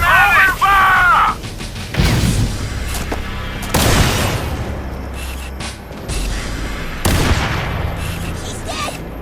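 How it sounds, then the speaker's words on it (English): Heavy gunfire and booming shots ring out from the Halo: Campaign Evolved game, several loud bursts spaced a second or two apart, with shouted combat voices over the start. "Open fire! Let him have it! Open fire!"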